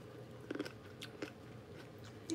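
Willy Wonka candy grapes are bitten and chewed up close, giving a few quiet, brief crunching bites spaced across a couple of seconds.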